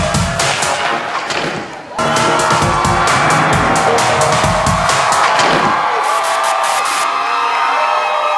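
TV studio audience on a celebrity reality show cheering loudly, a dense roar of whoops and applause that swells after a brief dip and then holds strong, with sharp thumps scattered through it.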